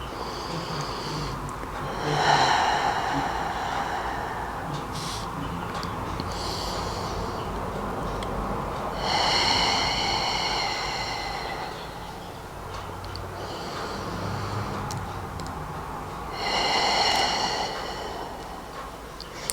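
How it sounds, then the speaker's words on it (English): Slow, deep breaths rise and fall in three long cycles, each a loud, close, raspy inhale followed by a gentle drawn-out exhale, with nothing else heard. "I'm like trying to take a breath in and like a really slow breath out"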